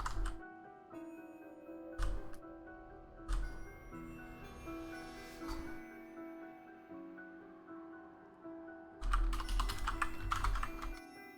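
Keys on a computer keyboard clack in scattered bursts, with isolated taps spaced apart and then a dense run of rapid typing near the end, close and clear over a faint background hum.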